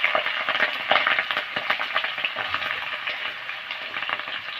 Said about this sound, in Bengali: কালো জিরা ফোড়নে দিলাম।